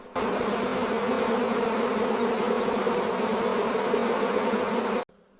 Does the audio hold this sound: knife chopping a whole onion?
no